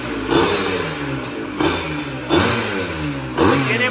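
Yamaha YZ 125 motorcycle engine fitted with a Scorpio muffler, revved in four sharp bursts that rise and fall in pitch, loud and close with a raspy two-stroke buzz and no talking.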